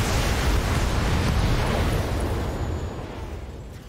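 A mech firing all three of its weapons at once in the video game Battletech: a dense, roaring burst of explosive noise that holds loud for about two seconds, then fades away.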